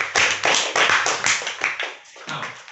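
A seventh-grade science classroom claps for a student, loud, close, rhythmic hand claps in quick unison bursts that slow and thin toward the end.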